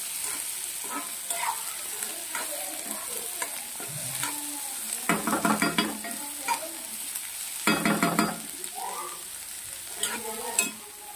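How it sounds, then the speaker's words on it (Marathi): Onion sautés in oil in a pan with a steady background sizzle, broken by bursts of spoon stirring and scraping, close and moderately loud, with no talking. "कांदा गुलाबी कलरचा होईपर्यंत छान परतवून घ्यायचा आहे तेलामध्ये"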